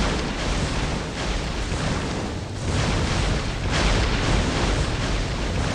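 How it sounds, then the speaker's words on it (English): Explosions from projectile hits in the mobile survival game Magic Survival, a dense, continuous roar of overlapping booms and bursts filling the whole stretch at steady loudness. "So when it hits stuff, it does now cause an explosion."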